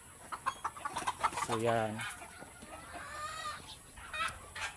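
Several chickens clucking at a farm, with a clear harmonic cackle in the middle and more calls after, close by, under a man's speech.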